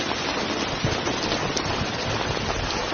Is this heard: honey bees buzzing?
no